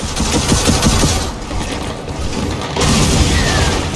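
Airstrike explosions in the video game Gears of War 4 arrive as loud, dense booms and rumbling blasts with rattling mechanical noise. A brief lull comes midway, then the barrage surges again.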